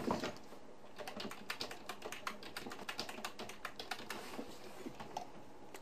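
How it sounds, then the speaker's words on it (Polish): Password typed on a computer keyboard during a backup setup: a quick, quiet run of close, even key taps across several seconds with no talking. "wpisz swoje hasło do kom komputerowe"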